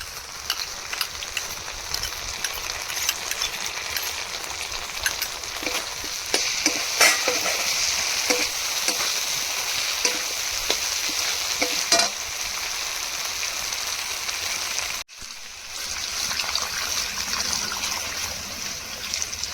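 Potato pieces sizzle steadily in a hot pan as cashew and poppy seed paste is stirred in, with a constant frying hiss broken by scraping and clinking of the spoon and a brief dip near the end.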